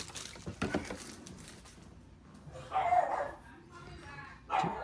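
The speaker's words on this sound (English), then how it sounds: "Don't mind our pup." A deaf foster puppy gives a few short yips and barks at moderate distance, with louder bursts around the third and fifth seconds, under and between people talking.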